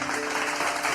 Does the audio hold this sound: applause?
yes